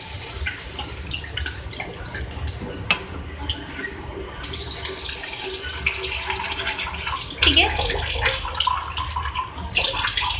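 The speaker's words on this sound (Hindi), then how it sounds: "अब इसके अंदर मैं पानी ऐड करूँगी 1 गिलास" Water splashes and pours into a pan of softened Maggi noodles, a running gurgle with sizzling clatter around it, growing louder near the end.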